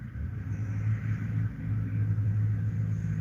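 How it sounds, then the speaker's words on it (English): A truck rumbling past on the road, a steady low engine drone that holds loud and close throughout, with no talk. "Here comes a cool truck."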